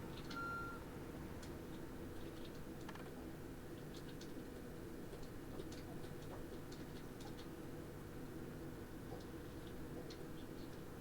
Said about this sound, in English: Oh, I hate the reverse beeper on this.